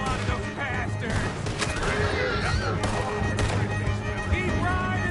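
Dense gunfire and explosions in Red Dead Redemption 2 during a chase battle, rapid overlapping shots and thuds forming a continuous loud barrage with a voice briefly shouting over it.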